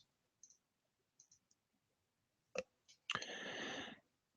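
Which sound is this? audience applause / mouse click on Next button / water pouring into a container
mouse click on Next button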